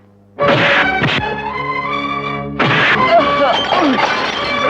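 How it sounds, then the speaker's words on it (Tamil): Loud crashing and smashing, as if objects are being broken, with a burst of impacts followed by a sustained clattering, shattering mess. "இப்ப எதையும் உடைக்க சத்தம் கேக்குது"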